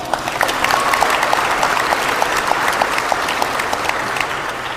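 Sustained applause from an audience at a large conservative political conference, steady and dense clapping filling the whole stretch at an even level with no voices on top.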